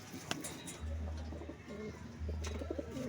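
Breeding pigeons coo in a low, repeated rumbling pattern, two distinct bursts close by over a background of other chirping birds; no talking.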